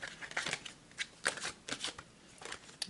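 Tarot cards shuffled by hand, a run of quick riffling bursts and soft slaps close by, moderately loud and repeating in an irregular rhythm with no talk.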